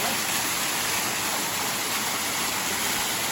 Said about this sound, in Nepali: वाटरफल चाहिँ यही हो है नेपालको सबैभन्दा ठुलो झरना वाटरफल